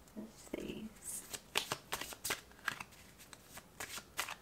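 A deck of cards is shuffled by hand in a series of quick riffling and tapping bursts, close and fairly quiet, recorded during a tarot-style card reading.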